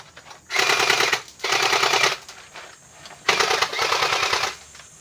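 A Senma M4 gel blaster firing on full auto, three loud close bursts of rapid mechanical rattling, each about a second long, separated by short pauses.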